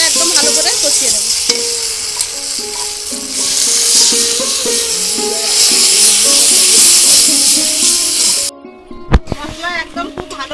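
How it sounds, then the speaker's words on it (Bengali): Spice paste, with chilli powder and a splash of water, fries in a pan, sizzling and hissing loudly while being stirred, with scraping strokes; the sizzle drops off near the end, followed by a few clatters, and a voice talks over it. "আর একটু জল দিয়ে মশলাটা একদম ভালো করে কষিয়ে নেব"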